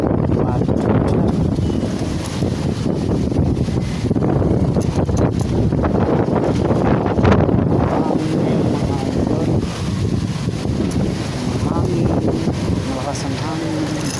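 Strong wind on an overcast day buffets the microphone outdoors in a continuous, loud rumbling gust, with someone talking throughout.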